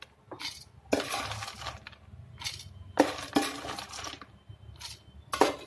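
Hard almond kernels are poured into a metal mixer-grinder jar in several short bursts, each a quick cascade of bright rattling clinks, separated by brief quiet pauses.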